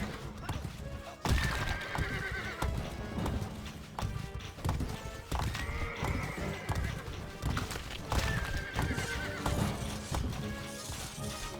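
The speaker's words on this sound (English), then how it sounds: "these horse archers will destroy Richard" Horse archers in a medieval strategy video game give loud neighs and whinnies over steady galloping hoofbeats and busy battle noise, with a commentator talking throughout.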